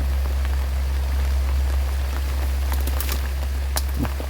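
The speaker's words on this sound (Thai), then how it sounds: "ฝนตกแล้ว นะ ครับ" Steady rain falls on an outdoor eel-trapping spot, a dense continuous hiss with a few sharper drops and taps near the end.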